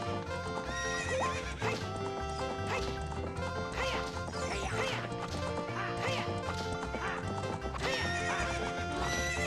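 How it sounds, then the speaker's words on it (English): Epona, the horse in a Zelda video game, neighs repeatedly with clip-clopping hooves, loud and close amid busy game sounds. "What's up with that horse? Is that a Epona?"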